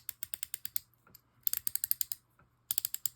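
Clicking ratchet of a 1944 Shakespeare fishing reel with its anti-reverse engaged, heard as three close bursts of rapid, crisp mechanical clicks separated by brief pauses, with no voices.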